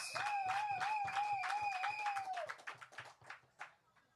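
A crowd applauds at a PAM town hall meeting in Bummers Park, Conaree, with steady dense clapping under a sustained wavering tone like a whistle or a held note. The clapping thins into scattered claps after about two and a half seconds.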